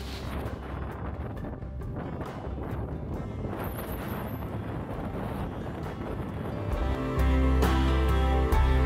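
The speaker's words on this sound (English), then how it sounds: "also incredibly windy" Strong wind on the Scottish north coast roars across the microphone in a steady, heavy buffeting rush that grows louder and deeper near the end.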